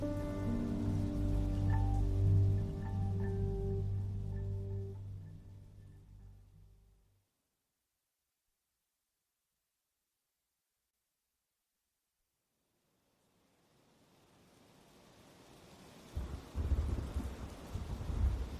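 A heavy thunderstorm with rain: loud rumbling and downpour that fade into near silence, then steady rain returns with thunder building again toward the end.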